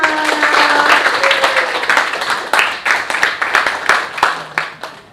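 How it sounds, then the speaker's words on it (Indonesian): A class of schoolchildren claps for a classmate, at first a dense burst of hands, then thinning into separate uneven claps that fade out near the end. "Beri tepuk tangan untuk Iqmal"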